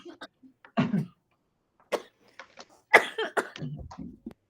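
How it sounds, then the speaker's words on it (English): A woman coughs in a few short, harsh bursts spread across the moment, close and fairly clear, with faint breathy vocal sounds between them. "I made the poor woman cough to death."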